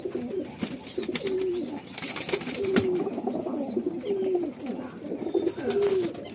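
Several pet female pigeons kept at a Bengali home coo in repeated low, throaty phrases, close and steady, with a thin high tone running constantly behind them.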